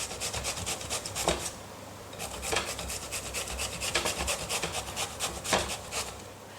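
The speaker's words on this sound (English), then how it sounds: "I'm going to crack on with the grating of the courgettes" Courgettes rasped against a box grater in repeated strokes, a steady rough scraping rhythm with brief pauses, close and moderately loud with no talking.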